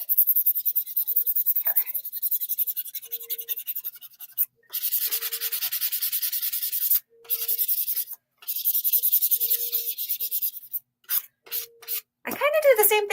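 Hand sanding a Sintra plastic sheet, with close, bright rasping strokes in steady rhythmic bursts separated by short pauses, with a faint tone in the background.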